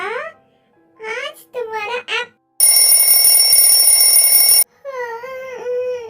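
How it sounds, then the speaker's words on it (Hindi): A shrill electronic alarm rings continuously for about two seconds, loud and close, between stretches of a child's high-pitched talking. "अलार्म क्यों बज रहा है?"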